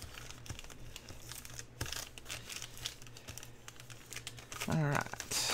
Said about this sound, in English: all I'm going to do is just take my bone folder and kind of reinforce all of these lines.